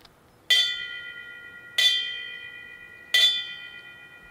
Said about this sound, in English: We strike the bell 3 times for those who gave their life in service to the United States Navy.